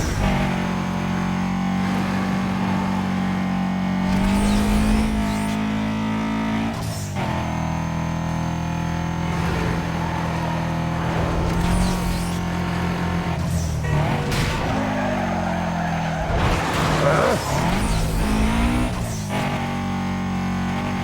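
Subaru Impreza drifting in Need for Speed Most Wanted, a sustained engine drone shifting pitch through revs with tire skids and surges, loud and continuous, with occasional faint talk.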